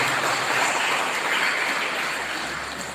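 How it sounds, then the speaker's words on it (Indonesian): Audience applauds at a ceremony installing organisation officials in Tasikmalaya, a broad, steady wash of clapping that holds strongly and then tapers gradually, with no speech over it. "Tepuk tangan untuk JKHNU."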